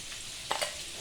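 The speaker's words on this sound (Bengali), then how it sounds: "আলু ভাজা বসিয়ে দিয়েছি" Potatoes fry in a pan on a home stove: a faint, steady sizzle runs throughout, broken by a couple of quick clinks of stirring midway, with no one talking.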